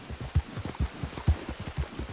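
Rainfall in Red Dead Online, a quiet even wash of drops with repeated soft low thuds recurring through the short stretch, no voices present.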